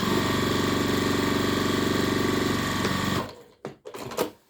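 Sewing machine running steadily as it stitches lines along an apron, a loud continuous mechanical whir that stops after about three seconds, followed by a few short handling noises.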